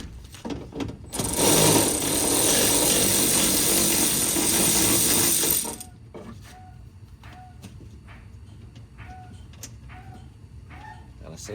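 Loud, steady mechanical whirring from a tool loosening bolts on the window regulator of a 1997-2001 Honda CR-V, running for about five seconds before cutting off, followed by quieter scattered clicks and handling sounds.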